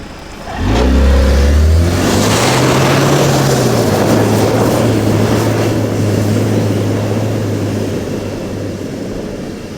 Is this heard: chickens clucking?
no